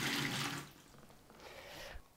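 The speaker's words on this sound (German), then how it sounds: "Das überschüssige Wasser kippe ich weg." Excess water is poured out of a repotted orchid's pot, a short splashing gush at the start that trails off into faint trickling and dripping, close by.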